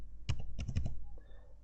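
Typing code on a computer keyboard for a Java program, a handful of quiet, close key clicks in a short irregular burst, then a pause and one final sharper click.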